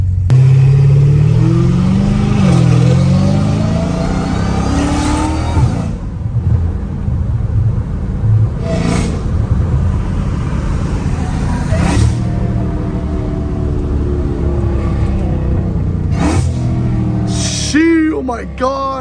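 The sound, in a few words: catless Dodge Challenger Hellcat Redeye engine revving and downshifting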